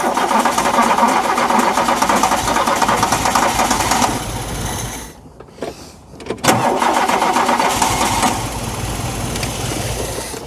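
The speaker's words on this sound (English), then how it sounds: "We're just going to run the car on brake cleaner for a couple of seconds and just ascertain what's going on." A classic VW Scirocco engine fed brake cleaner catches and runs with a busy, buzzing idle up close, cuts out briefly with sputters, then restarts and keeps running steadily.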